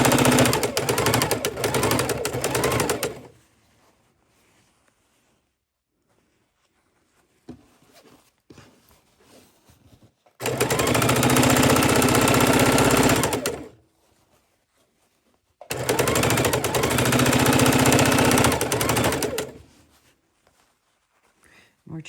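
A sewing machine stitches quilt seams in three long, loud, steady runs of rapid needle hammering, separated by quieter pauses filled with faint handling and fabric rustle.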